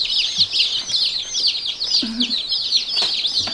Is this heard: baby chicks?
yes